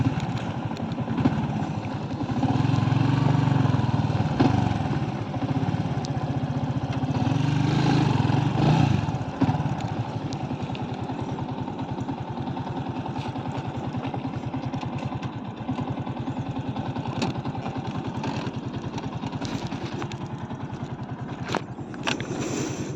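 A motorcycle engine idles steadily with a low, continuous rumble from start to finish, and the sound grows slightly louder and fuller during the first ten seconds.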